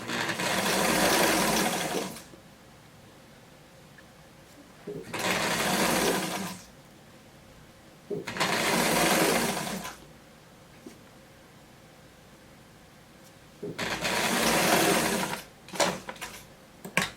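A sewing machine stitching a seam on a simple dress, running in four bursts of a few seconds each with quiet pauses between, heard up close, with someone talking during the pauses.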